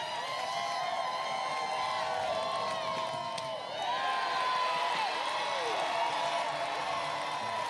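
A college softball crowd at a Kentucky versus Auburn game cheers and yells steadily at moderate distance, a sustained roar with scattered whoops.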